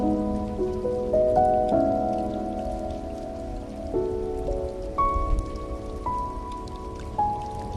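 Rain falls in a steady, soft patter beside a cozy fireplace, with gentle sustained piano tones playing over it throughout.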